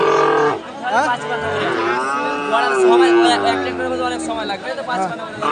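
Holstein Friesian cows at a Bangladeshi cattle market low with long, drawn-out moos, one after another, close by, over a background of people chattering.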